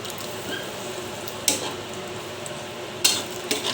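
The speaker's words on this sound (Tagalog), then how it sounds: "haluin lang po ng haluin" Pork kaldereta stirred in a pot, with a low simmering hiss beneath occasional sharp scrapes and clinks of a utensil against the pot.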